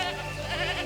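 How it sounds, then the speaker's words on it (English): Goats bleating loudly and steadily with a wavering, nasal cry, running loose everywhere on a Cook Islands farm, the sound filling the short moment without speech. "Goats running everywhere."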